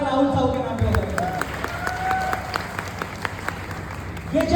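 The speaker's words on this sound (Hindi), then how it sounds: "तो जोरदार तालियां राहुल साहू के नाम पे हो जाएगा।" Audience at a Bright Future show in Tikamgarh clapping and cheering for a winner, a broad wash of crowd applause with a voice speaking over it and brief tonal music-like lines.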